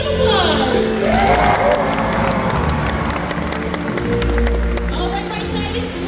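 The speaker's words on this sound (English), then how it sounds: "let's give him a big round of applause." Crowd at a killer whale show clapping and cheering loudly, mixed with children's shouts and an announcer's voice over a busy, echoing stadium din that swells and fades.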